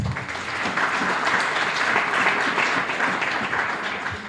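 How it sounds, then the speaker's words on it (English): Sustained applause from an audience at a technical training institute event, steady dense clapping that fills the clip at a consistent loud level without any talk. "I think we can give him a heartier clap."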